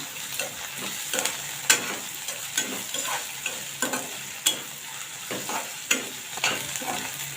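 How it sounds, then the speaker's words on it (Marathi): Ginger garlic paste and chopped green chili are mixed into frying onions, with a steady sizzle and rhythmic spatula scrapes and taps about every half second across the whole stretch, no voices. "आता हे मिक्स करून घेऊया"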